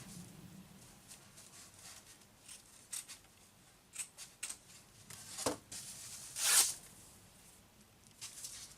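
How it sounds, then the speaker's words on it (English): Fabric for a wicking pot is torn by hand in short, scattered rips and rustles, ending in one louder, longer tear near the end, close and without talk. "Now I don't care if the edge is frayed, so tearing is just fine."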